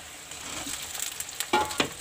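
Softened onions sizzle steadily in a pan as chopped capsicum goes in for paneer chilli, with a few louder clattering hits near the end over the continuous frying hiss.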